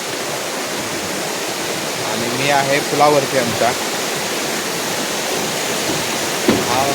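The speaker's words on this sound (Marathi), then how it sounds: "वरती हा धबधबा वरून येतोय पाऊस जोरात चालला आता" A steady, loud roar of a waterfall pouring down from the hills in heavy rain fills the whole clip, with someone speaking briefly over it partway through.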